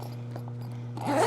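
An internal zipper is pulled closed on a diving suit, a short rasping zip that rises sharply near the end of a brief moment over a steady low hum.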